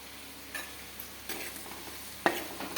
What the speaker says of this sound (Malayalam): പൊടികളൊക്കെ മുളക്, മഞ്ഞൾ, ഉപ്പ്, കുരുമുളക് പൊടി ഇതെല്ലാം കൂടെ ഒക്കെ ഒന്ന് ഇളക്കി വെക്കുകയാണ്